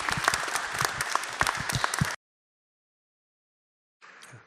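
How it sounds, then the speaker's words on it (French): Lively applause greets a guest archaeologist at a talk, with crisp overlapping claps for about two seconds, then sudden silence, followed by a short fainter return of sound. "je vous demande de l'applaudir bien fort"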